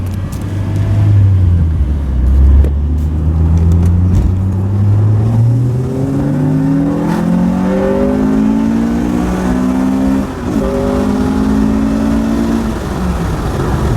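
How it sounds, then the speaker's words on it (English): A Honda B20 engine with VTEC revs hard through a second-gear pull. Its loud, close drone climbs steadily in pitch for about fourteen seconds and rises sharply partway through. "we're gonna try to do a pull in like second gear so you can hear the VTEC kick on at about 44"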